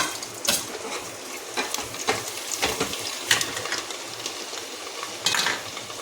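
Steady crackling sizzle of garlic frying in hot oil, with occasional scrapes and clinks of a utensil stirring in the pan. No voices.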